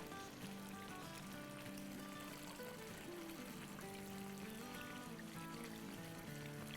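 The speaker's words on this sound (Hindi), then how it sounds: "ये जो हमने इमली भिगो के रखी थी आपके सामने और गुड़ वाला पानी ये डाल देते हैं सारा।" Soaked tamarind and jaggery water poured steadily into a pan of Hyderabadi stuffed eggplant masala, a continuous soft liquid pour with light trickling, no talking.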